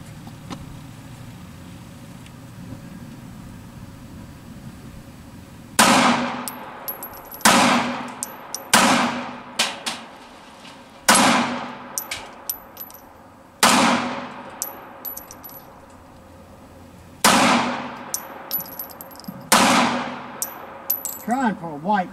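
Shots from a SCCY CPX-3 .380 pistol ringing off steel plates, about nine sharp cracks each followed by a bright metallic clang, spaced irregularly one to two seconds apart after a quiet opening.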